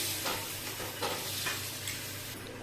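Tomatoes frying in oil in a pan for a dry chili and coconut chutney give a steady, close sizzle, with soft scraping strokes of stirring running through it.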